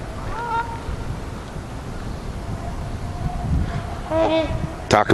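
Geese honking at a bird sanctuary, a few scattered calls near and far over a steady outdoor background, with a louder burst of honks near the end.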